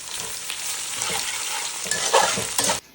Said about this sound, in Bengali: কুচিয়ে রাখা পেঁয়াজটা অ্যাড করে দিলাম। পেঁয়াজটা একটু ধৈর্য ধরে ভেজে নিতে হবে।